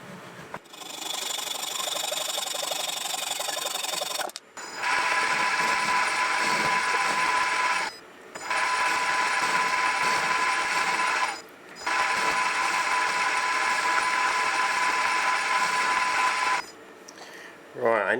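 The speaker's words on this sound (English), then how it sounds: "I'm just going to hacksaw that off a bit and then just face it off." A hacksaw cuts through a small metal part for a miniature petrol engine's spark plug fitting, making close, steady rasping in four long runs separated by brief pauses.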